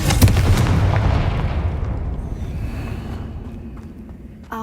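A Confringo fire spell explodes in Hogwarts Legacy with a heavy, booming blast up close, followed by a long rumbling decay that fades slowly, then a faint click at the end.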